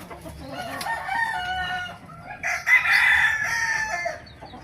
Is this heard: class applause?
no